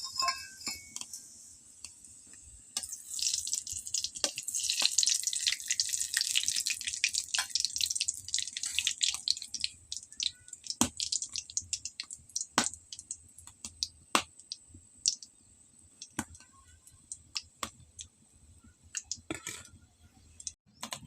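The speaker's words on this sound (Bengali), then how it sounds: "যে আমার তেল গরম হয়ে গেছে, এখন দিয়ে দেবো 2টো তেজপাতা আর জিরা" Two bay leaves and cumin seeds hit hot oil in a home kitchen. A bright burst of hissing sizzle rises after a few seconds and fades into scattered sharp pops and crackles for the rest of the clip.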